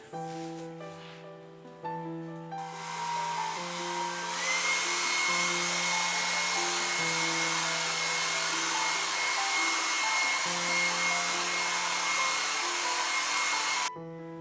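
A hair dryer dries an RA4 colour photo print, switching on and then blowing with a loud, steady whoosh and high whine for about ten seconds, heard alone under background music.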